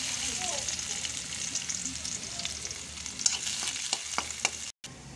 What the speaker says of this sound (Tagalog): Mag-isa na tayo ng bawang.